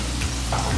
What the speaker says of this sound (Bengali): আমি পোলাওর সাথে মাংসটা অ্যাড করে নিচ্ছি